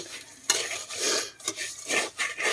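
Rice roasting dry in a pan for corn coffee is stirred with a utensil, giving a steady rough scraping and rattling of grains against metal in repeated strokes, close and fairly loud.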